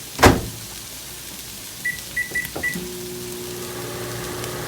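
A sharp click is followed by a few short beeps, then a microwave oven hum starts and drones on steadily.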